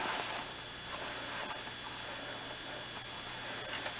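A sewing machine stitches a nylon and mesh casing seam about an inch from the edge, giving a faint, steady mechanical whir with soft ticking over a low hum throughout.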